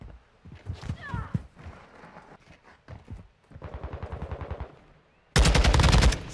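Machine gun fire in Modern Warfare 2 multiplayer, with scattered shots and footsteps early on, then a steady burst at mid-level and a sudden, very loud close burst at the end; game voices call out in between.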